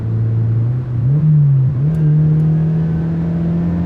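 A Mazda NC Miata engine revs out toward 7,500 rpm, a loud, close in-cabin drone that dips briefly at a shift and then climbs and holds a steady high note.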